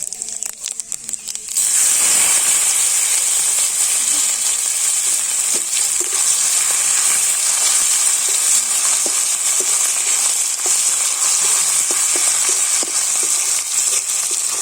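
Panch phoron and ginger hit hot oil for khichuri, the sizzle bursting in after a couple of seconds and settling into a loud, steady crackling fry, with occasional small pops and spatula touches throughout.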